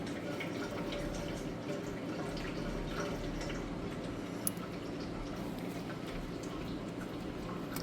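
Engine oil drains from the drain plug of a 2020 Bentley Continental GT W12, a steady, even trickling and splashing into a pan that runs without a break, close and moderately quiet, with no one talking.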